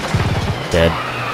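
A race car in TOCA Touring Car Championship revs and accelerates in a short burst of pulsing engine tone, close and fairly loud, with a voice talking over it.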